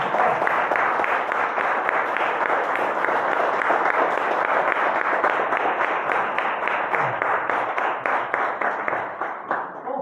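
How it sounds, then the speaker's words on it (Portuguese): A church congregation applauds for Jesus, with sustained, dense clapping from many hands filling the room steadily for about ten seconds before thinning slightly at the end. "Você pode dar uma salva de palmas para Jesus?"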